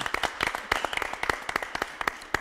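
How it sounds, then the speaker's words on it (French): Sparse audience applause on a French television studio set, a handful of distinct hand claps sounding close and fairly loud over a few seconds, with no talking. "On peut applaudir pour la présentation."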